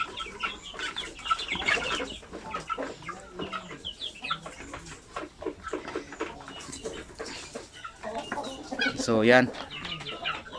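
Chickens cluck on and off near the microphone while someone talks, with a louder burst of clucking toward the end.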